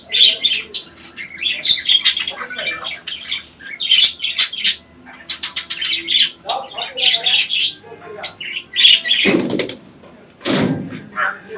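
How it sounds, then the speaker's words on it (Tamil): Lovebirds and a white parrot call at a nature farm homestay, with busy, high, overlapping chirps and squawks going on throughout, near and loud, along with a few low thumps and rustles. "ஸோ லவ் பேர்ட்ஸ் இருந்தாலே உங்களுக்கு நல்லாவே அதோட சத்தம் எல்லாமே நல்லா கேட்டுகிட்டே இருக்கும்."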